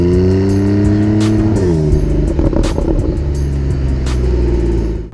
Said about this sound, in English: This all-wheel drive 911 provides incredible acceleration when you have all four wheels tugging in the same direction.